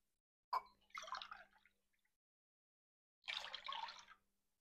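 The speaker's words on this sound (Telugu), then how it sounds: "అదే గ్లాస్తో రెండు గ్లాసులు వాటర్ పోస్తున్నాను" Water poured from a glass into a pan for semolina halwa, two separate splashing pours with a pause between, close and quiet, no talk.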